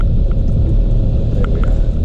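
An old Toyota Hilux drives along at steady speed, its engine a continuous low rumble that fills the whole stretch, loud and close, with no voices over it.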